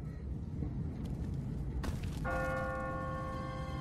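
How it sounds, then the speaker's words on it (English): Church bell ringing in The Walking Dead video game, a clear metallic bell tone that starts partway through and rings out steadily over low rumbling ambience, with no speech. "What kind of church bell goes off at 20 past the hour?"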